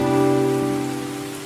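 Rain falling as a radio drama sound effect, a steady close patter on a surface with faint tonal hum beneath, continuous and alone without voices.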